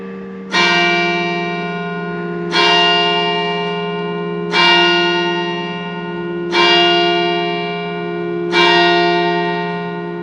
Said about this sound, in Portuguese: a igreja com seus sinos badalando